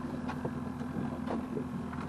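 Wind on a fishing trip, steady rumbling gusts buffeting the microphone outdoors, loud and constant with faint bumps underneath.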